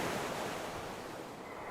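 Sea waves crash on a shore, a steady broad roar of surf close by with wind noise and no voices.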